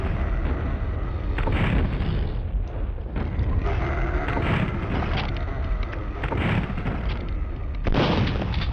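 Rocket blasts in Duke Nukem 64 boom one after another, heavy and loud, blending into a continuous roar of explosions with sharp new impacts near the end.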